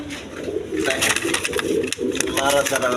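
A pair of red German seal pigeons coo in soft, repeated warbling calls close by, while someone talks over them.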